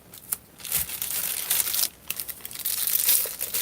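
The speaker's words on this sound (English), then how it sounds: "Put a little tape right here, Christy." Packing tape pulled off a roll and pressed onto an eBay package: loud crinkling and ripping bursts with short pauses, close up, with no talking.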